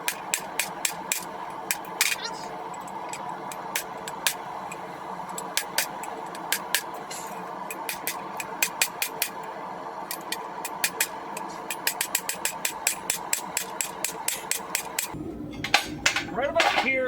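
Hammer blows forging a hot rail spike into a sword ring out in a steady series of sharp metallic strikes, some in quick bursts, continuing for most of the stretch before a brief scrape and a few final hits.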